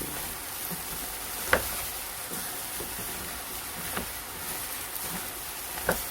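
Meat and onions stir-fry for curry rice in a pan, a quiet continuous sizzle broken by a few sharp clicks of a utensil against the pan, with no one talking.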